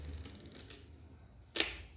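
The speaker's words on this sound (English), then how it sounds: "Now you can cock the shutter," Pentax 67 medium-format film camera with a stuck shutter, its mechanism being cocked: faint mechanical whirring and ticking, then one crisp, close metallic snap in near silence.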